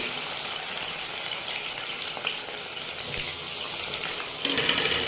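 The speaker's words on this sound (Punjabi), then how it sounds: "ਚੰਗੀ ਤਰ੍ਹਾਂ ਕਰੇਲੇ ਨੂੰ ਆਪਾਂ ਫਰਾਈ ਕਰਾਂਗੇ" Bitter gourd (karela) frying in hot oil gives a steady, dense sizzling hiss throughout, slightly louder toward the end, with no voices.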